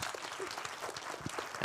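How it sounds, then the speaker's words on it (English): A conference audience applauds a speaker taking the stage, producing brief, faint, steady clapping from a crowd. "Huge applause for Bartłomiej."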